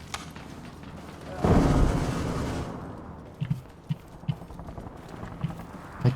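A grenade bursts in Arma Reforger, a dull, heavy boom with a short rumbling tail, followed by light scattered footstep-like clicks and thuds nearby.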